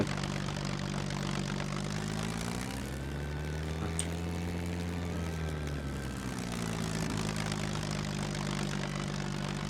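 A seaplane's propeller engine in the video game SCUM drones continuously, its pitch dipping and rising again midway, a steady buzzing hum with no talking.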